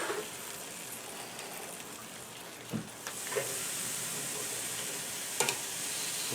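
Ribs and corn in the husk sizzle on a Kamado Vision grill, a steady hissing crackle with a few soft pops and clicks, moderately close and quiet, with no talking.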